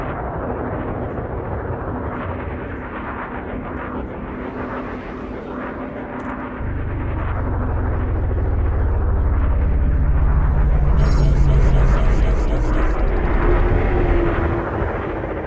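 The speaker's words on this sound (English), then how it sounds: "take the ship off and take it for a spin and see how it performs" An Alliance Crusader ship in the Elite Dangerous game lifts off a landing pad. Its engines build from a low hum to a deep, swelling roar that rises steadily and holds loud and close, with a brief beeping chime near the end.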